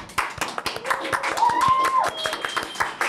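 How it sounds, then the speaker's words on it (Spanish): A small group claps to welcome a guest at the start of an interview: sparse, close, distinct hand claps in an uneven rhythm, with a brief tonal whistle-like sound and some voice underneath. "quiero darle un fuerte aplauso de bienvenida a nuestra invitada Grisel Quiroga."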